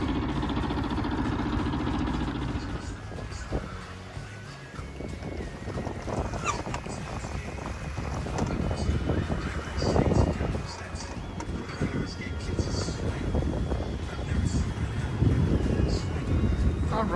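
A diesel boat runs up the Lake Michigan coast from Chicago toward Waukegan in a southeast wind, with engine rumble and rushing water under steady wind buffeting on the microphone.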